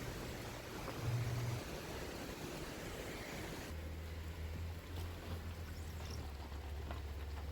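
Rain falls steadily in a Smoky Mountains forest while someone searches for a campsite after dark, a soft continuous hiss with a low hum underneath and no voices.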